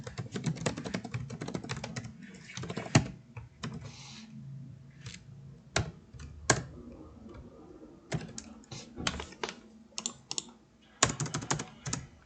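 Computer keyboard keys clatter in irregular bursts and pauses, close and fairly quiet, as Arduino code is typed with no one talking.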